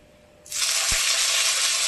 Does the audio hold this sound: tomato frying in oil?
yes